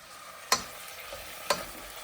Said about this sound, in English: I'm just going to fry this for a couple of minutes more before we add the paste